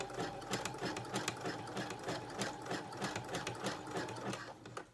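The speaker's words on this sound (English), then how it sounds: "I'm just keeping an even tension as I sew." Sewing machine stitching swim elastic onto fabric, a steady, continuous rapid mechanical chatter held at even pace for the whole stretch, close and moderately quiet.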